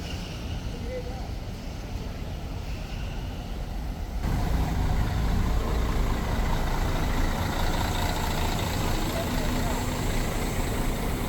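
A heavy diesel engine of a Jetbus 5 MHD bus idles steadily at a bus terminal with a low rumble, getting louder partway through, with faint background activity around it.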